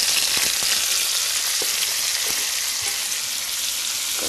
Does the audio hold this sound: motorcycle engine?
no